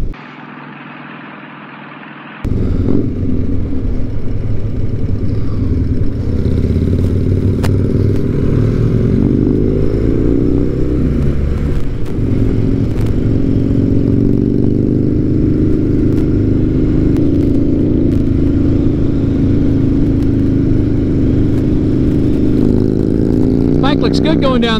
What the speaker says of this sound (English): Bike looks good going down the road.